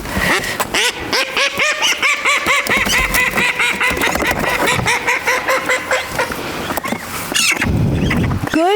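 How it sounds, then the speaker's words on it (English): Call ducks quack loudly and repeatedly in quick, overlapping bursts, a noisy chorus close by, with a dog and handler nearby and some squealing toward the end. "That's why they call them call ducks. They are noisy little suckers."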